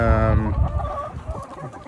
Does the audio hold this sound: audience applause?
no